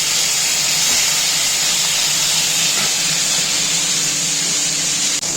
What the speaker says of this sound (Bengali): তেল গরম হয়ে গেছে, চিংড়ি মাছগুলো ভেজে নিই।